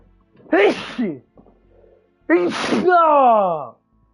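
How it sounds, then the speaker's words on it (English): A man sneezes twice up close: a short sneeze followed by a longer, louder one that trails off into a drawn-out voiced exhale. "I gotta sneeze with all the bullshit."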